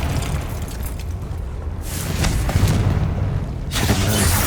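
A Confringo spell explodes in the video game Hogwarts Legacy, a loud, sustained booming blast with crackling bursts that swell and fade twice, without speech.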